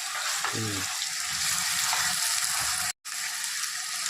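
Chicken masala is stirred through hot oil in a pan, giving a bright, steady sizzle with a few scraping strokes near the start and a brief cut to silence partway through.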